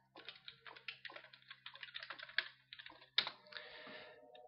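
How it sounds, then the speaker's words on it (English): Quick typing on a computer keyboard, a fast close run of light key clicks ending in a louder tap, quiet over a faint low hum, no voices. "If I can ever type it right."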